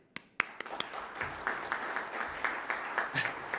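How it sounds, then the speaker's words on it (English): Modest audience applause at the BioFarm 2022 conference welcoming a speaker, a few sharp early claps building into a light, uneven patter in a room. "please give a round of applause and big welcome to Matthew Evans from Australia"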